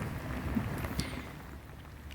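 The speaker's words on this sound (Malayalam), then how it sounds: "മഴ കൂടി കൂടി വരുന്നുണ്ട്" Rain falling steadily in the grounds of a palace in Bodhaya, a soft continuous patter with a few louder splashes, heard alone with no talking.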